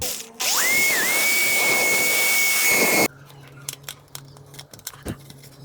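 A tool bores a hole in a small project box to fit an audio jack. It gives a loud, steady whining hiss for about three seconds and then cuts off sharply, followed by faint scattered clicks and handling noises close by.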